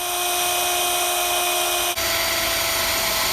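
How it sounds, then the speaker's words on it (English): A power drill whines loudly and steadily as it bores through the sticker on a vehicle roof rack while LED side lights are fitted. The tone shifts once midway as the bit breaks through. "I'm now going to take my drill and drill through the N on this sticker on both sides so it is even."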